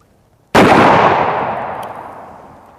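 A single loud, close gunshot from a heavy rifle firing a 500-grain projectile at AR500 steel body armor, a sharp blast followed by a long rolling decay lasting about two seconds, outdoors with no voices.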